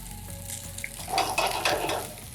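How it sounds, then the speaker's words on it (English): Potstickers fry in hot oil in a pan, giving a close, steady sizzle that swells into a louder crackling burst midway, with light utensil and pan clatter and no talking. "once you hear the sizzle, we'll do it again"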